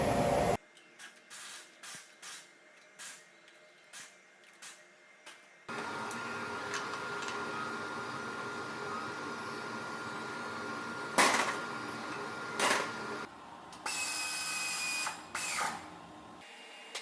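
Power-tool and ratcheting sounds from tightening 22mm lug nuts with a 100 foot-pound torque stick during transfer case work on a 2011 GMC Terrain: short bursts at first, then a long steady whir with a few sharp spikes, no talking.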